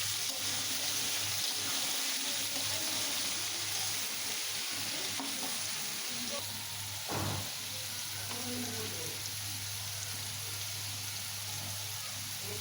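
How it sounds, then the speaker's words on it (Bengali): Mixed vegetables with salt, cumin-coriander powder and turmeric frying in a pan, a steady moderate sizzle with occasional stirring scrapes throughout, no talking. "এবার এটাকে ভালো মতো ভাজা ভাজা করব।"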